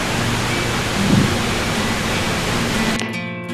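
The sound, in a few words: Kegon waterfall in Nikko, Japan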